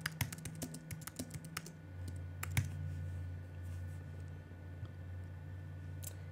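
A title being typed on a computer keyboard in quick, close clicking bursts for about two seconds, followed by a steady low hum with only a few scattered taps.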